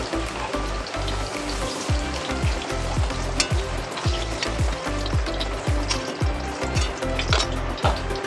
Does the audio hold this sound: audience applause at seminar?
no